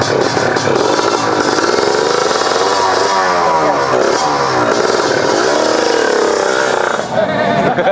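Loud, close drag motorcycle engine roaring steadily with harsh rasp, rising and falling through several rev sweeps before dipping briefly near the end.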